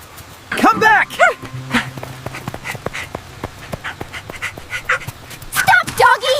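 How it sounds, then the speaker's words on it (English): A small puppy yips and barks in short bursts at close range, with whimpering sounds between them and a person's voice talking over the top. "A puppy! A cute little dog."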